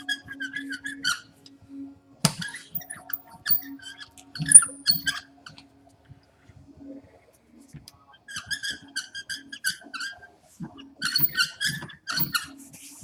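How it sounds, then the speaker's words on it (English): A squeaky toy squeals in scattered clusters of short, high squeaks while being used to crease waxed canvas for a roll-top rucksack, faint and close, with pauses between bursts. "I'm going to grab my squeaky toy here"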